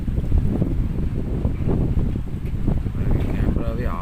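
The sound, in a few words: strong wind blowing at trekking campsite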